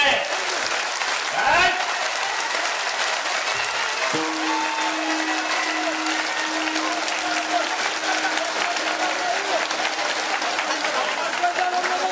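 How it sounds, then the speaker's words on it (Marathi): A crowd claps with raised hands at a centenary festival gathering in Mojpuri, a steady dense wash of applause running the whole time with voices mixed in and a faint sustained tone partway through. "सर्वांनी हात वर करून टाळ्या वाजवायचे"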